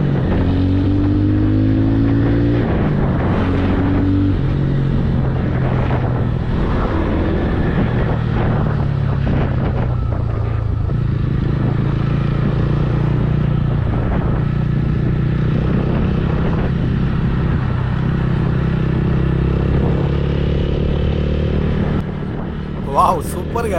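A 2025 TVS Ronin motorcycle ridden off-road, its engine droning steadily with shifting revs and rough, bumpy rumble while a rider talks over it nearly throughout.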